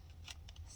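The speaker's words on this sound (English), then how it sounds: "let's trim this where it needs to be trimmed" Scissors trim paper for a journal spread in a few quick, faint snips close by, set against quiet room hum.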